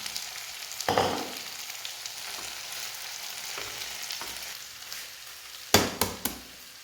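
Green chillies tipped into a pan of cooked potatoes for a potato and egg curry, a steady close frying sizzle with a sharp burst of crackle near the start and a few stirring clatters near the end.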